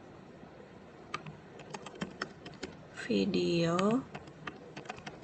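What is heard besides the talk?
typing on a computer keyboard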